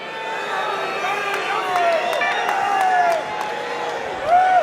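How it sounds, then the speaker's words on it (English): A recorded crowd cheers and whoops in reaction to a speech, a broad wash of voices with rising shouts and scattered claps, held at a steady moderate level throughout. "let's just hear the crowd and Eddie kind of reacting."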